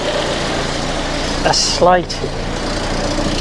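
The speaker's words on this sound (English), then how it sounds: "actually there's quite an exhaust leak coming from up there" A Volvo 480 engine idles steadily with an exhaust leak, a continuous low rumble running throughout while someone talks briefly over it near the middle.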